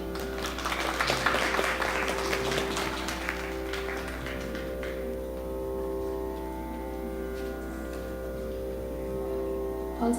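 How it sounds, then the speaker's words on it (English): An audience at a fundraiser concert by a music academy claps for a performer, with dense applause that is strongest early and then thins to scattered claps fading into steady hall hum. "Another big round of applause for Yadeshji"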